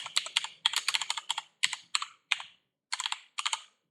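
Quick bursts of typing on a computer keyboard, crisp close key clicks in short clustered runs separated by brief pauses, alone in a quiet room.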